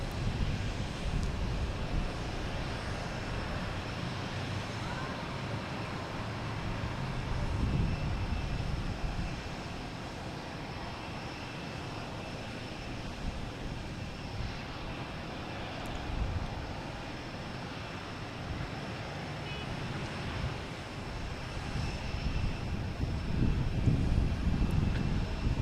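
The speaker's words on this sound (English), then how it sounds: "So we have Delta coming in" A Delta Airbus A220 arriving from Austin comes in to land at Boston Logan, a low, distant engine rumble mixed with wind noise that holds steady and thickens slightly toward the end, with no voices.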